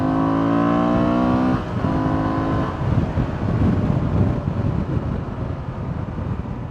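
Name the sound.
Honda Transalp 750 motorcycle engine revving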